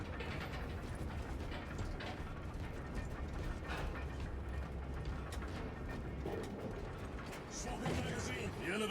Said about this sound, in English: The elevator is almost here.